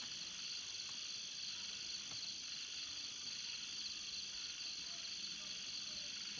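Frogs croak steadily at night amid a dense chorus of insects, a continuous layered buzz with no pauses.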